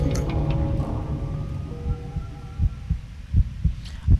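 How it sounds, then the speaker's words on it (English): A heartbeat sound effect from the video game Racing Lagoon thumps in low, steady double beats, starting under a fading hum and then standing out clearly and alone. "where only I could hear my heartbeat"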